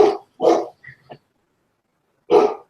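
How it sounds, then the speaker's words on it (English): A yellow Labrador barks nearby: two loud barks close together, a pair of soft yips or whimpers, then one more bark after a pause, with no talking. "I can hear that dog."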